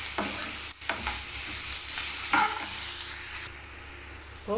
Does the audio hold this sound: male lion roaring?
no